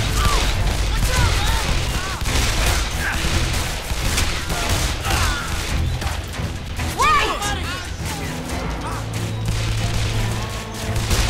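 Gunfire in the video game Call of Juarez The Cartel rattles in dense bursts amid crashes and mechanical clatter, loud and continuous, with voices shouting over the chaotic firefight.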